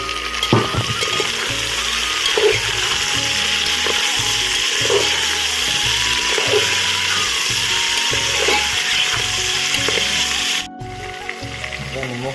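Meat dropped into a pan of fried onions sizzles loudly and continuously, with stirring scrapes and knocks at intervals, close by, before the hiss cuts off near the end; pig ear recipe in Assamese style.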